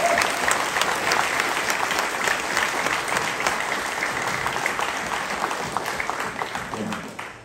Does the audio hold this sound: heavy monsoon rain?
no